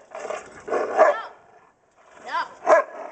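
Several dogs next door bark and growl in two loud bursts with a quiet gap between, heard from a rooftop on a cloudy day.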